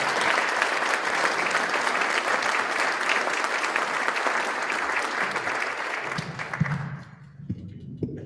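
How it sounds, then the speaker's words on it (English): A conference audience applauds as panelists walk to the stage at a Dallas-Fort Worth business launch event, sustained dense clapping that dies away near the end, leaving faint room noise. "let's give them a round of applause on their way up"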